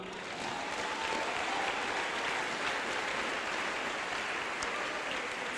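Church congregation applauding in a worship hall with a balcony, a steady, dense wash of clapping from a large crowd that holds on without a break.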